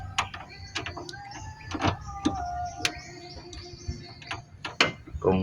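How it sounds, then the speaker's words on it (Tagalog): Wrench ratcheting on a loose car tie rod end bolt as it is tightened, a series of quiet sharp clicks and metallic ticks in irregular bursts, close up with no talking. "bolt ng tie rod end. Hindi ko alam kung bakit na lumuwang yan. Subukan nating higpitan mga idol."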